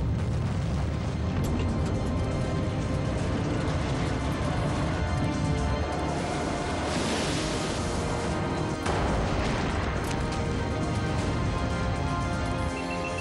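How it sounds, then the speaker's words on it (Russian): A deep, sustained blast rumble aboard the Kursk submarine, a dense continuous roar filling the whole stretch with a brighter surge partway through, loud and close with no voices. "Через 135 секунд после первого взрыва еще одна взрывная волна прокатилась в"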